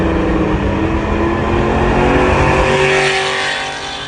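A loud 3-valve V8 car engine roars and revs with a deep, rumbling exhaust, holding strong before easing off near the end.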